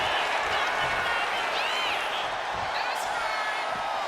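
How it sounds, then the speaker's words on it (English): Crowd noise from a wrestling arena in the WWE 2K25 video game, a dense steady roar with a few whistles and whoops, heard under a commentator's voice. "Dragunov drawing a big reaction from the crowd."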